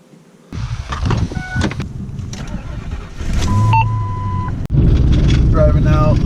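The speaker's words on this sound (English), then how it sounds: "Driving out through town right now, going to the airfield to do some maintenance." A car starts up at McMurdo Station, Antarctica, and drives out through town, with a loud engine, a brief beep and interior clunks while people talk.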